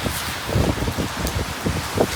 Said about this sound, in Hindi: बाहर फिर तेज़ बारिश हो रही है